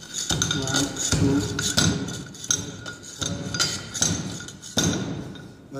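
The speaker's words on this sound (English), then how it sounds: "and then we hammer it for each layer" A Proctor compaction hammer drops repeatedly onto soil packed in a mold, each blow a sharp, close thud, arriving in an uneven series of about eight strikes.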